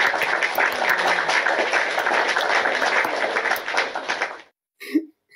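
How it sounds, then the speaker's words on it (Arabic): Studio audience applause rings out for a guest on a talk show, a dense, lively wash of clapping that holds for over four seconds, then cuts off abruptly, leaving a short vocal sound in near silence. "تصفيق تصفيق"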